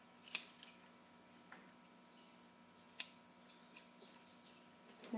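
Scissors snip through a hair tie on a braided horse's mane, a single sharp close cut near the start followed by a few fainter clicks and snips in a quiet room.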